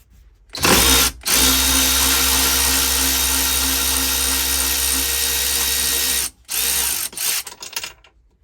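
Power tool spinning out an E-Torx seat bolt in a 2021 Sprinter van: a loud, steady motor whine that runs for about five seconds, then a second shorter burst followed by a few rattling blips.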